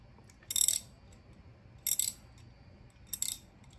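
A ratchet wrench clicks while loosening a nut, three short bursts of quick metallic ticking spaced about a second and a half apart, close and crisp against a quiet background.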